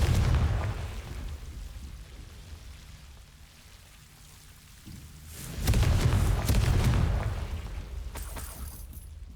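A Confringo explosive spell in the Hogwarts Legacy video game bursts in partway through with a sudden loud rumbling blast that swells and lingers for a few seconds, after a quieter, muffled ambient stretch, then tails off into lighter crackling.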